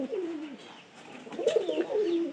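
A visiting pigeon coos softly nearby, two or three rolling, throaty coos in quick succession with quiet background.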